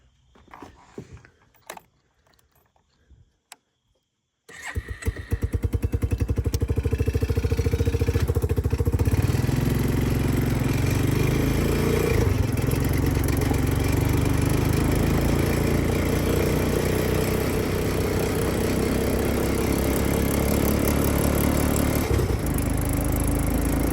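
An Arctic Cat 250 ATV being ridden over rough terrain: a few faint knocks, then the engine fires up and holds a loud, steady, close drone for about twenty seconds, with no talk.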